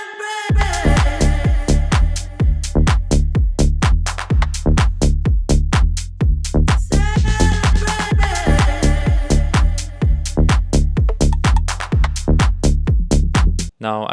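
A full tech house groove with a sidechained bassline, steady four-on-the-floor kicks, crisp hats and chopped vocal snippets, all loud and dense, running continuously until a brief dropout just before the end.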